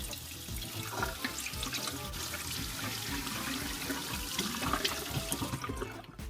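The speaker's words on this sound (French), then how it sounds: "On va prendre donc le hand spinner avec un bâton et on va donc le passer à l'eau." Running tap water in a bathroom sink, splashing steadily over a small hot-glue hand spinner held on a stick, a continuous close rushing and gurgling wash that holds for several seconds before cutting off.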